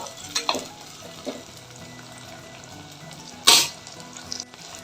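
Onions sauté in a pan for Tamil-style fish gravy, a soft steady sizzle broken by a few sharp scraping stirs, one loud burst near the end, close and without talk.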